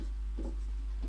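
Writing on a board during a physics lecture on Snell's law: a brief, soft run of scratchy strokes, quiet and close, with no talk over it.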